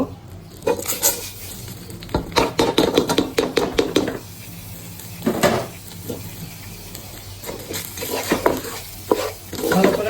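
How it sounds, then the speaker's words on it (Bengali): Rice being fried in a pan for pulao: repeated scraping and clattering stirring strokes in bursts over a low, steady sizzle, close and fairly loud, with no talking. "এখন চালগুলো ভেজে নিব"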